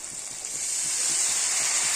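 Water poured into a pan of fried spices for a catla fish curry hisses and sizzles loudly and close by, a steady, swelling hiss lasting about two seconds with no talking.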